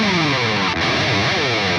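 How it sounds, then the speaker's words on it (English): A distorted electric guitar slides down the neck toward the headstock, the pitch gliding steadily lower through a sustained, effects-heavy tone, played alone. "Then you just slide back down the fretboard towards the headstock."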